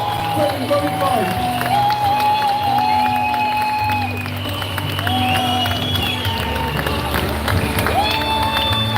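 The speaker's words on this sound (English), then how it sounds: "Give her a round of applause, please." A crowd at a protest march in London claps and cheers steadily for about nine seconds, loud and close, with shouting voices mixed into the applause.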